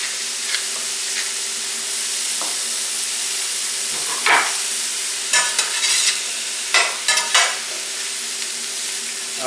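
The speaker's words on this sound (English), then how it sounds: "I've sauteed the mushrooms until they were brown on the outside" Mushrooms sautéing in a pan, a continuous close sizzle and hiss with occasional stirring scrapes and a few sharper crackling bursts, a low hum in the background.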